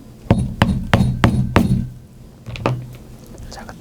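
A urethane mallet strikes a leather hole-punch blade five times in quick, even succession, loud and close, followed by a couple of lighter knocks as the work continues.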